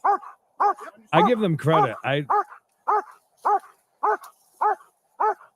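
A police dog barks repeatedly and loudly nearby, sharp evenly spaced barks broken by a brief burst of deeper overlapping barks, with a voice speaking briefly over them.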